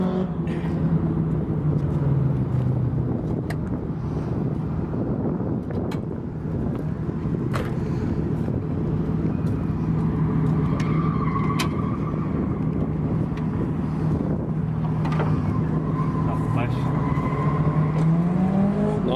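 A small turbocharged drift car's engine runs close by in a steady, loud low drone, with a few brief rises in revs near the start and end.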